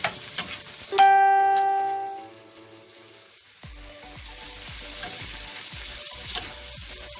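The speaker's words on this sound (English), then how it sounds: "And just give it a little stir." Ackee and saltfish fry in a pan while being stirred, with a steady sizzle and scraping from the spoon. A brief ringing clang of metal is heard near the start.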